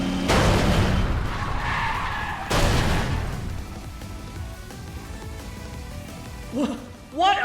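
Race cars skidding out of bounds in the video game Trails Through Daybreak 2, long loud tire skids in two bursts, then a quieter rumble with voices chattering over it.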